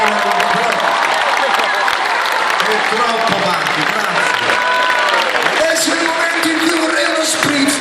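A large crowd applauds at a live concert, a loud, dense wash of clapping and cheering that holds steady throughout, with faint tonal traces above it.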